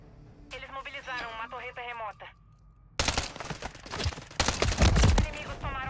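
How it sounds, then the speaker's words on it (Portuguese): A voice speaks over quiet game audio, then rapid, loud bursts of gunfire erupt and continue in dense volleys during a Call of Duty Modern Warfare 3 multiplayer match on Xbox Series S. "Eu tô disparando aqui sem parar"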